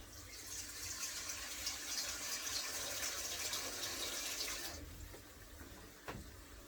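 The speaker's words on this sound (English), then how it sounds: "I'm going to catch some water almost to fill up the pot." Tap water runs steadily into a cooking pot for a chicken-foot curry, a continuous hissing gush that cuts off near the end, leaving a faint knock.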